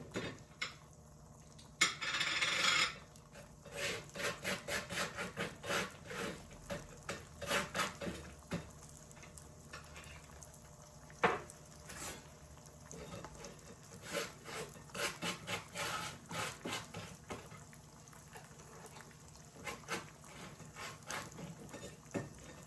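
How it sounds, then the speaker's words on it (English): A knife scrapes butter across crisp sourdough toast, repeated close, rasping strokes in an irregular rhythm, with faint kitchen background and no talking. "I'm going to butter my toast."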